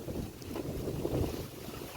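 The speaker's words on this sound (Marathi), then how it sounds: "हवा प्रचंड, वादळ आलेलं आता मोठं, गेला वारा" Strong stormy wind blows outdoors in a steady, dense roar that buffets the microphone continuously and loudly, with no voices.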